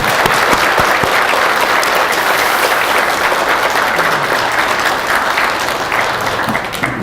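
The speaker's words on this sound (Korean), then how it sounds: "서로를 위해서 힘찬 격려의 박수를 드립니다." A church gathering at a workplace Bible study meeting breaks into loud, sustained applause, a dense and even roar of clapping that lasts throughout and eases slightly at the very end.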